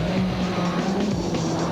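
Rally cars lap the Killarney circuit the wrong way round in a Super Special stage, engines droning loudly and steadily with tyres squealing, close and continuous.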